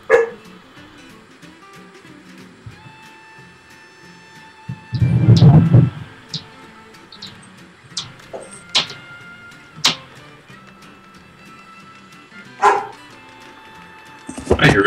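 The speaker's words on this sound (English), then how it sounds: "I hear a dog." Dog barks from the Voodoo Vince video game, several short separate barks scattered across the stretch, with a heavy thump midway, over a steady game music and ambience bed.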